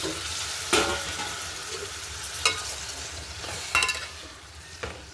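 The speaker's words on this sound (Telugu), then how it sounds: "ఇప్పుడు బాగా పిసుక్కొని పక్కన పెట్టుకున్న టమాటాలు వేసుకుందాం." Tomatoes fry with ginger-garlic paste in a pan for a dried fish tomato curry, a soft steady sizzle punctuated by a few sharp clanks of a stirring spoon.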